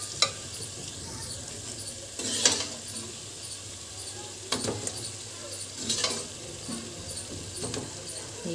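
Pre-fried potatoes for aloo dum biryani are sautéed with spices in a pan. A low, continuous sizzle runs under occasional sharp scraping and stirring knocks, with no voices.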